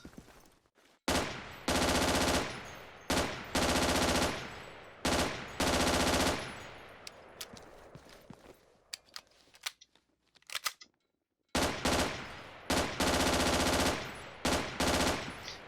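A P90 submachine gun firing without a silencer in a Battlefield 2 mod, loud rapid bursts repeated several times with short gaps and a brief silent pause before the final volleys.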